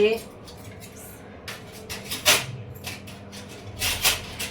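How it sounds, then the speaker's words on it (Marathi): Spoons and other utensils being set out in a home kitchen: scattered metallic clinks and rattles come in irregular bursts, some sharper and louder than others, with a voice talking in the background. "आता स्वयंपाकाची तयारी चमचे लावून घेते"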